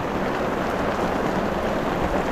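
Steady, dense hiss of rain from an arriving typhoon, falling without a break, a continuous wash of noise with no voices.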